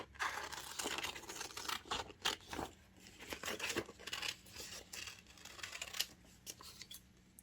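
Close scissors snipping through paper for a crossword puzzle paper doll collage, a series of irregular crisp cuts with paper rustling and crinkling between them, no talking.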